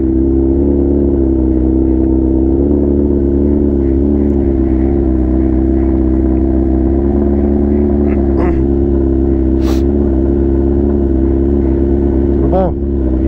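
A BMW S1000RR superbike idling loudly at close range outdoors in Búzios, Rio de Janeiro, a steady deep engine drone with a few brief throttle blips and rises in pitch, and voices talking over it.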